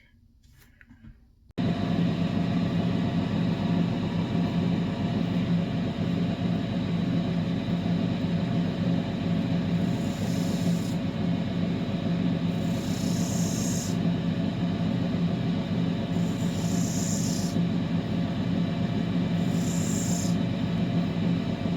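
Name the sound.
lapidary 600 grit wheel grinding a belemnite opal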